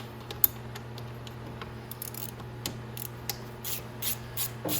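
An 8mm ratchet loosens bolts on the cover of a Venom X22gt 250cc scooter, making quiet clicking pawl ticks in short bursts, close up, growing busier toward the end over a low steady hum.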